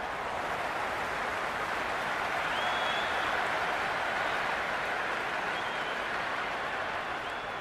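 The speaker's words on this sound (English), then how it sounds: "The crowd is electric right now." Crowd noise at a cricket match in a video game: a steady, loud, unbroken roar of cheering and applause throughout.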